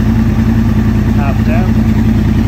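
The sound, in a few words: engine idling while warming up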